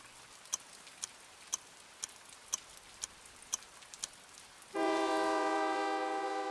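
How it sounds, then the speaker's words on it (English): Steady, evenly spaced ticking for a few seconds, then a single sustained train whistle blows loud and clear, holding its tone before cutting off. "A single whistle, echoing through the night."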